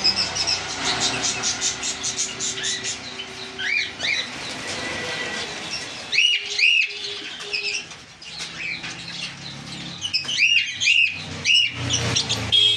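Small black Java sparrows for sale chirp and whistle in repeated bright bursts, with wing flutters and cage rustle around them and other birds calling nearby.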